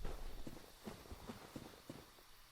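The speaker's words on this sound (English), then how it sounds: "I swear I just heard some really heavy footsteps." Heavy footsteps from the game Dark Souls, played with the Daughters of Ash mod: a faint, steady run of about six dull thuds with no talk over them.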